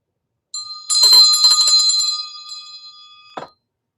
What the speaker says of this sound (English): I'm inspired to ring the bell instead of saying something that I'll regret.